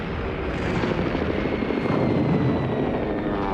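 Francoist warplanes roar overhead in a dense, continuous engine drone during an attack on civilian and military targets, loud and unbroken with no voices.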